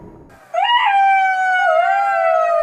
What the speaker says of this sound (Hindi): जब सियार का पेट भर गया तो वह खुश होकर हुआ हुआ की आवाज निकालने की कोशिश करने लगा